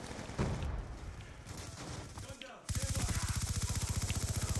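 Gunfire in Black Ops 2, a burst of shots trailing into a dense rumble, then a fast, loud, steady automatic stream of rapid shots near at hand.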